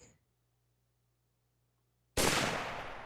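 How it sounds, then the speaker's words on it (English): A single sudden gunshot sound effect bursts out of near silence, loud and sharp, then fades into a long trailing decay. "Bang! A gunshot sounded."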